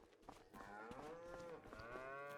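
Cows mooing in the farming video game Farming Simulator 25, with long drawn-out moos that rise and fall and overlap against a soft farmyard background, moderately loud and close, with no talking.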